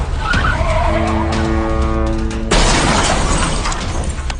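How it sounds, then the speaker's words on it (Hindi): A car loses control on a rain-soaked road, tires squealing in a long skid before a sudden loud crash of impact and shattering debris, with rain and traffic noise throughout. "अचानक उसकी गाड़ी का नियंत्रण बिगड़ गया।"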